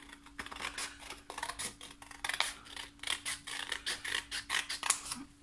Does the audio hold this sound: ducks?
no